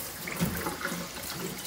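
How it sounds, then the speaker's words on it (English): Hot water runs from a tap into a sink during metal paint stripping, a soft steady stream of splashing and gurgling, close by and fairly quiet, with no talking. "So I open the hot water"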